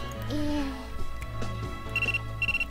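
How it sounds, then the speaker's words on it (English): A short electronic cell phone text message tone in a video game chimes twice near the end, a pair of bright beeps over background game music. "a short tome came from her cell phone and was a text"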